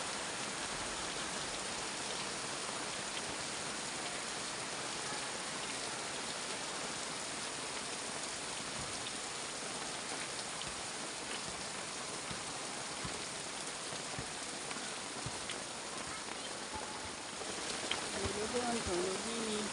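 Steady rain falling on surfaces, a dense continuous patter throughout, with faint brief sounds near the end.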